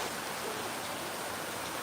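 Torrential monsoon downpour over a rural hamlet: a continuous, even roar of rain, close and full, without pause or speech.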